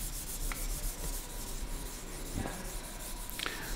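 A cake of rosin rubbed back and forth along a violin bow, a soft continuous scraping hiss, close and quiet, with no talking.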